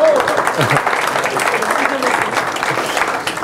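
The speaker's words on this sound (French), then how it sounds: "vous pouvez applaudir" Conference audience applauding after a live demo, steady clapping from a crowd filling the room with a sustained, fairly loud patter.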